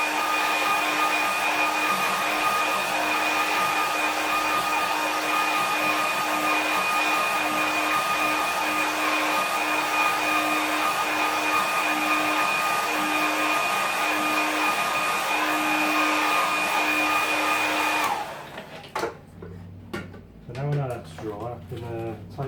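Hair dryer blowing steadily on a watercolour painting, a loud continuous whine with a strong tonal hum running for about eighteen seconds before cutting off, followed by someone speaking.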